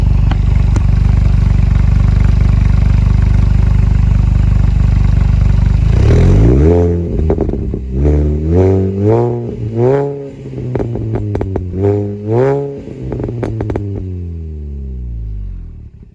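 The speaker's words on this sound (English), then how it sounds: "I'm going to put the phone here under the exhaust and let you hear it." A loud WMW exhaust on a supercharged car rumbles deeply at idle, then blips through a series of sharp revs that rise and fall in pitch, close to the microphone.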